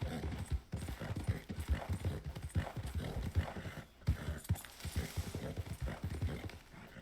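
Horse in the Red Dead Redemption video game galloping with steady rhythmic clip-clop hoofbeats throughout, plus occasional whinnying, close and fairly loud.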